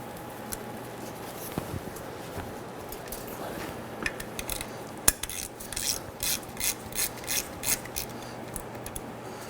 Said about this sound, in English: We're going to start by using our Ratchet 3/8 drive on the fill plug here.